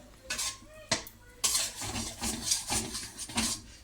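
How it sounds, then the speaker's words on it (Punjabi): A spoon scrapes and stirs thickening jaggery syrup in a pan for makhana, with sharp metallic knocks and soft bubbling sizzle in between, close and fairly quiet. "ਗੁੜ ਨੂੰ ਆਪਾਂ ਹਿਲਾਉਂਦੇ ਰਹਾਂਗੇ ਕਿਉਂਕਿ ਨੀਚੇ ਤੋਂ ਗੁੜ ਨਾ ਫਿਰ ਜਲ ਜਾਊਗਾ"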